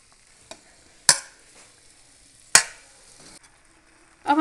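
Noodles tossed with fried, softened vegetables in a pan, giving a few sharp scraping clacks of a utensil against the pan between stretches of soft frying hiss, close and with no talk.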